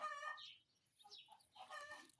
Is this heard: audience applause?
no